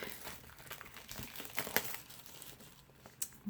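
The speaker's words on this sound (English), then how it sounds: "So we're going to open up the plastic." Thin plastic wrapping is crinkled and peeled off a Queen of the Moon oracle card deck, a faint, close, continuous rustle with a few brighter crackles.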